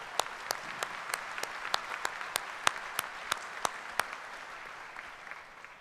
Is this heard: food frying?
no